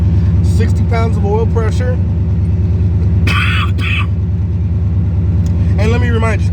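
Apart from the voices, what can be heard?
junkyard car engine idling at 1,000 RPM on fast idle cam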